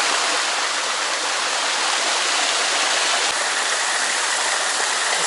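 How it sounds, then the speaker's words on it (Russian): Mountain stream and waterfall on the Yassy river rush in a steady, loud, dense roar of falling water with no pauses, close by and alone without voices. "Вот здесь идет вода."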